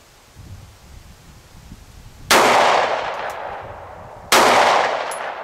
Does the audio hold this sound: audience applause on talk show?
no